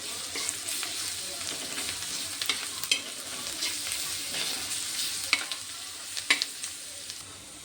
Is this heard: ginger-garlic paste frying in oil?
yes